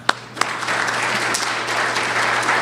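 Steady applause from a lecture audience at an engineering talk, a dense, even wash of many hands clapping that fills the whole stretch at moderate loudness, with no voices over it.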